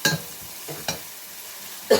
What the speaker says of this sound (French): Donc là, je mélange le tout.